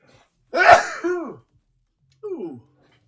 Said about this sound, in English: Uh-oh, there's a sneeze coming.